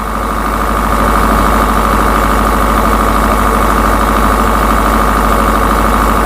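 A diesel generator set runs steadily under load, a loud continuous low engine drone with a constant mechanical vibration and no breaks.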